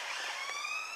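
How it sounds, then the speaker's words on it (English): An emergency vehicle siren wails at a distance with a rising, sustained tone, heard from a car parked in a car park, brief and moderately faint, with no talk. "Can you hear that siren?"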